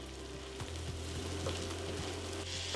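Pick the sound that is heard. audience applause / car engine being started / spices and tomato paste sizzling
spices and tomato paste sizzling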